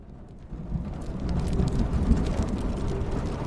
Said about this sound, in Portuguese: Chovendo.